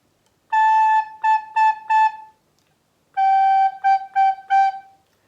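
A recorder plays a rhythmic phrase on A, one long note then three short ones, then repeats the same pattern on the slightly lower G. The tones are clean, close and solo.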